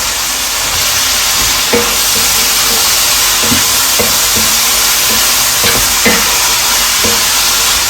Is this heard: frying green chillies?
yes